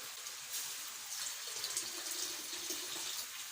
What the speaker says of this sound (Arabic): عايز شويه تاني من الميه